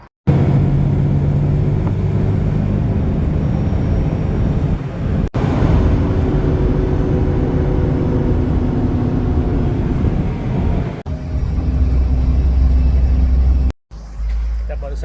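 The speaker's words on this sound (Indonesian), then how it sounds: "ini bus datang" A city bus pulls up on a street in the Czech Republic, a loud, steady low rumble of engine and road noise dominating throughout, with brief breaks near the end.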